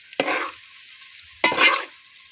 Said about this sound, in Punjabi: ਅੱਛੀ ਤਰ੍ਹਾਂ ਮਿਕਸ ਕਰਕੇ ਤੇ ਫਿਰ ਇਹਨੂੰ ਭੁੰਨਣਾ ਚੰਗੀ ਤਰ੍ਹਾਂ।